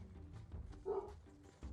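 A dog in the video game Dragon Age II gives a single short, fairly quiet bark over low game ambience.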